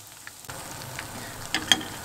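Börek made from chickpeas and egg fries in hot oil in a pan, giving a soft, steady sizzle with a few small pops and spoon clinks near the end.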